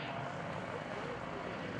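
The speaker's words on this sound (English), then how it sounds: "coming around again, we'll hear the Stearmans" Boeing Stearman biplanes, U.S. Army Air Force PT-17 or PT-13 trainers with Continental or Lycoming radial engines, roaring past at the 2011 Blue Angels Homecoming Airshow as a steady, loud, broad propeller drone.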